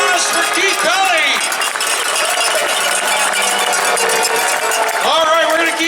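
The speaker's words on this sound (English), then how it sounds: "Another round of applause for Keith Pelly." Crowd applause and cheering rise at a Grey Cup celebration for Keith Pelly, a loud continuous roar of clapping and shouts with music playing underneath.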